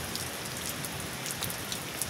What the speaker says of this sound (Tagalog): Uhahay, gaulan ng Cebu.